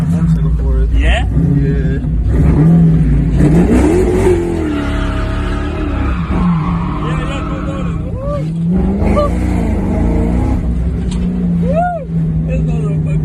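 A DA9 Acura Integra fitted with a new exhaust idles and revs in a steady, throaty drone. People talk loudly close by over the engine throughout.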